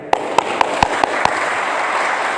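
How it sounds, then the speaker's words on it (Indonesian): A church congregation claps in a short burst, about six distinct sharp claps in an uneven rhythm over a steady room murmur, fading into background noise. "Kasih tepuk tangan yang meriah"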